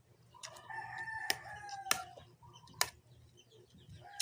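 A rooster crows in a drawn-out call, with a few sharp clicks and knocks around it in a quiet outdoor setting near the chickens' pen.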